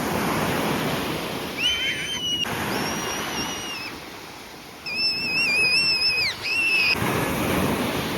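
Waves wash continuously onto a Black Sea beach at Chornomorsk, a loud, steady surf roar. Several high, drawn-out squeals rise over it at intervals.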